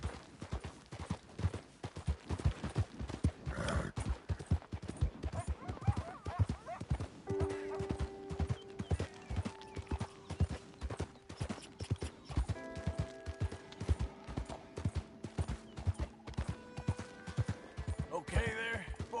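Horse hooves clip-clop steadily in a brisk rhythmic gait while riding in the game Red Dead Redemption 2, close and continuous throughout, with an occasional whinny, mechanical clicks and a voice speaking briefly over the hoofbeats.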